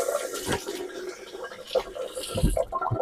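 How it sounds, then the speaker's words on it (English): Water runs from a kitchen sink tap for a quick rinse while baking a cake, coming in short splashing gushes with brief gaps between them. "Quick rinse."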